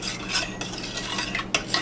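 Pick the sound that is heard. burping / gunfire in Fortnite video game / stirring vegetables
stirring vegetables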